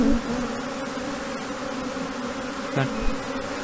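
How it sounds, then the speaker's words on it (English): A honeybee colony hums with a loud, steady, close buzz during a hive inspection after a swarm, the drone slightly raised and unbroken, with a soft knock or two from handling the frames. "what I'm hearing now is definitely a bit louder than I would normally expect from this hive"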